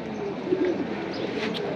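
A pigeon gives a single soft, low coo, close by, against a steady murmur of ambient noise from a pigeon-keeping setting.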